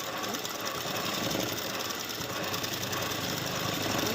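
Sewing machine stitching fabric during a home tailoring lesson, a continuous fast mechanical whir and rattle held at a steady level throughout, close and fairly quiet.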